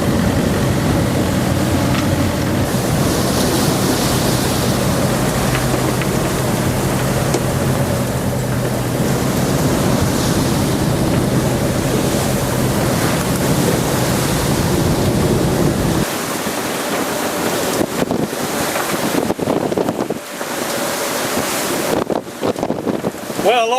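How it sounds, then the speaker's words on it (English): Strong wind and choppy waves in shallow water heard aboard a sailboat at sea, a loud steady roar of wind buffeting and water rushing against the hull, with spray and gusts; the low rumble drops away partway through. "along with the high waves and choppy waves that are caused by the shallow water here, we're also getting a Venturi effect for the wind"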